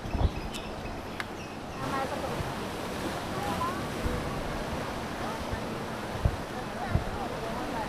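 Sea waves wash against the rocky Jaigad shore on the Konkan coast below the Karadeshwar temple, a steady broadband surf roar with wind noise throughout and a couple of brief thumps near the end.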